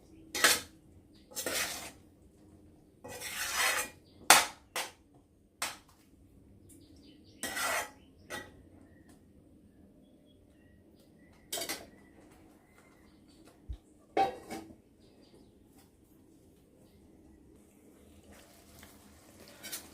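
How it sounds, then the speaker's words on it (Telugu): Spoon clanks and scrapes against a pan while drumstick, egg and tomato curry simmers on low flame, heard as sharp metallic bursts spaced irregularly between quiet stretches, close by. "మధ్యలో ఒకసారి కూరని ఇలా కలుపుకోవాలి"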